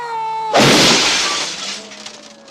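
A film scene car smash into a pickup truck carrying surfboards on its roof: a sudden loud crash of breaking glass and crumpling metal cuts through a sustained tone, then trails off into scattered debris rattles.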